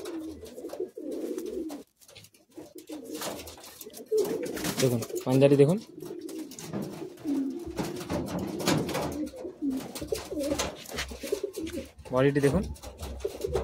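Madrasi pigeons of the red-eyed Jiria line coo softly in low, throaty bursts at a home loft in Bagnan, repeating throughout while someone talks over them.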